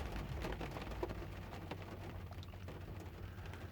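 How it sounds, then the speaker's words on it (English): Torrential rain after a long dry spell, a steady dense wash of drops falling alone throughout, with a few brighter splashes and a faint low rumble underneath. "After months of dryness, now we've got torrential rains."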